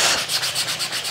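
Sandpaper lightly buffing the cracked rubber roof seal of a Mini convertible, giving a short run of quick, even, close back-and-forth scratchy rubbing strokes, about eight in one second, with no talk.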